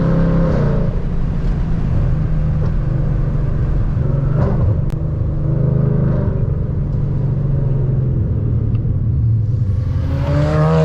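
An Audi TT with an audible turbo drives a winding mountain road, its engine a steady loud rumble and whir nearby throughout, with no talking over it.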